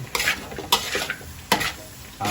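A spoon scrapes and clatters around a pan of cabbage and potato gravy, several distinct stirring strokes with a soft sizzle underneath, close and moderately loud.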